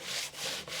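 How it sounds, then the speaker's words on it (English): Sandpaper rubbing over still-wet green paint on a painted background board: two or three quick, close, gritty scraping strokes with brief pauses between them, heard alone. "I'm gonna use this piece of sandpaper and see what it does."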